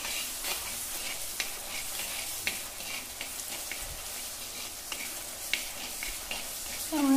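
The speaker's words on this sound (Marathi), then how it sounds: "तेलात थोडं लसूण परतायचं." Garlic sautéing in hot oil for a mutton rassa and sukka tempering, a steady broadband sizzle with occasional stirring scrapes and clicks, fairly close and continuous, with no talk.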